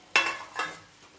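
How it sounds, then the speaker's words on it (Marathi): A spoon stirs roasted wheat vermicelli with salt in boiling water in a pot over a gas flame, making two close scraping, sizzling strokes and a fainter third. "हे सर्व एकत्र हलवून द्यायचं आहे"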